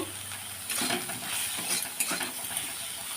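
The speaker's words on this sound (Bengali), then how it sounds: "লাল লাল করে ভেজে নিচ্ছি" Soybean chunks sizzle and hiss in hot oil close up, with stirring scrapes of a utensil against the pan.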